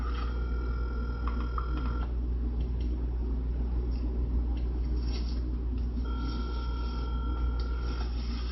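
Telephone dialing a call, with electronic tones and line beeps over a steady low hum, in two tonal bursts separated by a quieter mechanical stretch.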